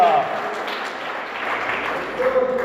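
Church congregation applauding together during a Spanish-language sermon, a dense steady clapping that holds throughout at moderate loudness, with a voice faintly over it.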